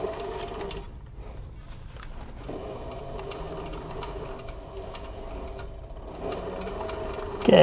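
Sewing machine stitching layered leather for a crossbody bag, a faint steady mechanical whir with light rapid ticking, close by and uninterrupted, no voices.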